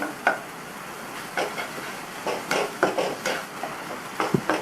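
Ripe sliced bananas sautéing in ghee give a soft, continuous sizzle broken by repeated scraping stir strokes and a couple of light knocks against the pan, close by and with no speech.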